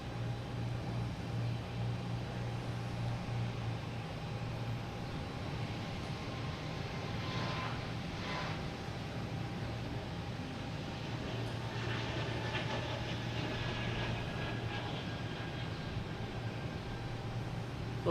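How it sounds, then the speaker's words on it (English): A JetBlue Airbus A220 jet airliner bound for Miami at Boston Logan Airport, a steady far-off engine roar and rumble that holds for the full stretch, no voices. "Okay, we have JetBlue heading to Miami,"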